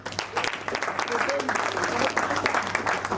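Guests applaud at a civil wedding ceremony at the town hall in Arpajon, a lively round of clapping from a small crowd that swells and holds steady. Voices call out faintly beneath the clapping.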